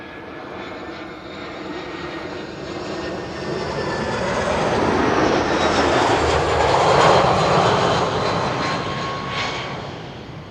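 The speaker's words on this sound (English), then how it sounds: "this is what looks to be the last airplane for the time being" A jet airliner passes along the Schiphol runway, its steady engine roar swelling to a peak midway and then easing off, loud and continuous, with no talk.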